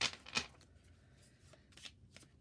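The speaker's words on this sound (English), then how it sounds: "I'll just give the cards here a quick shuffle" A deck of playing cards shuffled for a board game, two quick riffling bursts up front followed by softer handling and card snaps.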